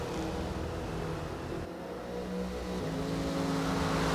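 Race cars lap Watkins Glen in an IROC-style racing video game, their engines blending into a steady, dense roar that swells slightly without a break.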